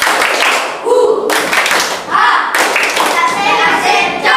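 A classroom of children doing the rhythmic clapping game tepuk semangat: bursts of patterned group hand claps, close and fairly loud, mixed with voices chanting and talking between the claps.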